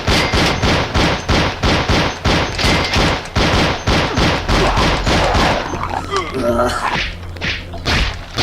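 Rapid, loud bursts of gunfire in the zombie shooter Zombie Age 2 repeat in a steady rhythm of shots, then give way to messier impacts and game effects near the end.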